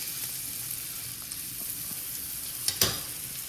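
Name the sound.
American Wagyu steak searing in a pan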